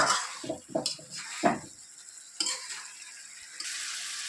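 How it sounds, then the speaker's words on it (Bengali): Pangas fish frying with spices in a pan, stirred with a utensil: several close scraping and clinking strokes over a faint, soft sizzle, then a quieter stretch of frying. "মশলার সঙ্গে ভালো করে আবার একটু মাছগুলো দিয়ে কষিয়ে নেব"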